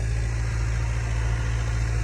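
A Mahindra 585 DI tractor engine runs steadily nearby, a loud, deep, even diesel throb with a constant low hum and no pauses.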